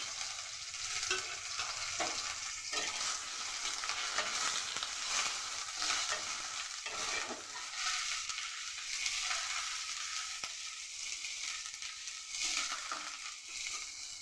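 Cumin seeds, a dried chilli, a bay leaf and grated ginger frying in hot oil, heard as a continuous even sizzle with faint stirring scrapes and no voices.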